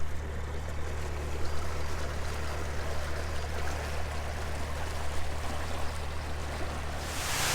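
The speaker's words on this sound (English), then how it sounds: "A little bit noisy with the water" Steady, loud rushing water roars continuously and close by at Earthlington Lock on the River Nene, a dense churning wash with no break.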